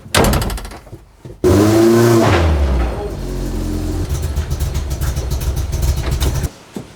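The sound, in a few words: race car being moved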